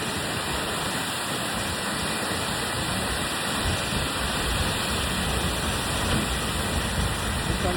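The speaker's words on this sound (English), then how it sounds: "We're behind the that waterfall here." Seljalandsfoss waterfall in Iceland heard from behind the falling water, a dense, even roar of crashing water that fills the whole clip, loud and unbroken with no voices.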